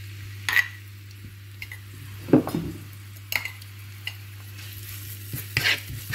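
Pounded ginger and coriander root fry in oil until golden, with a soft sizzle under a low hum and several distinct stirring scrapes and clinks of a utensil against the pan.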